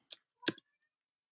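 Mouse clicks on an Apply Now button on a college admissions web page: two crisp, close clicks about a third of a second apart, then a tiny faint tick, with silence around them.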